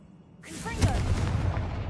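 A Confringo fire spell blast from Hogwarts Legacy: a single loud burst that swells after a quiet start and rumbles on with a crackling, fiery tail, heard alone.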